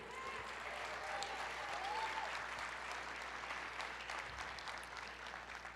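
Church congregation applauding in praise during a worship service, a steady sustained wash of clapping from many hands filling the room, fairly distant and even throughout.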